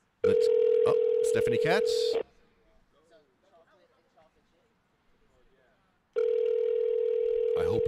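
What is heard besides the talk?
telephone call ringing out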